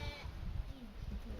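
Sheep on a farm give a brief, faint bleat over low rumbling background noise in a short, quiet moment without talking.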